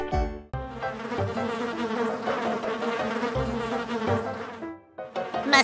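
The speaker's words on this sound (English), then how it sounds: "Fuzzy buzzing mosquito pilots!" Cartoon mosquitoes buzz in a busy, continuous insect drone layered over a children's nursery-rhyme soundtrack. The buzzing is loud and close, with brief breaks and shifts in pitch.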